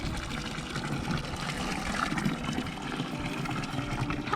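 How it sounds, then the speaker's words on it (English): Fresh mountain water trickles and splashes continuously in the Swiss Alps near Belalp, a close, steady watery rush with no voices. "First, a sip of fresh mountain water."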